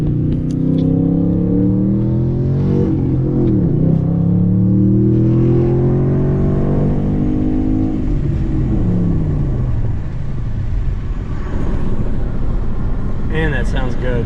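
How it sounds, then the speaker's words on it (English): An Audi S5 with a misfire code revs through rising engine tones while driving, the pitch climbing and falling in sweeps over a heavy, steady road rumble. "it sounds so much better when you let the RPMs wind up a little bit more"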